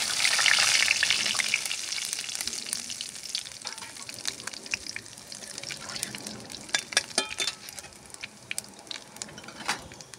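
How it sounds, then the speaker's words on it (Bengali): Cumin and garam masala tempering crackles in hot oil, a bright hissing sizzle that starts loud and settles, scattered with sharp pops and spatters growing busier toward the end, close and without voices. "ফোড়ন দিচ্ছি, এই জিরে গরম মশলা ফোড়ন দিলাম।"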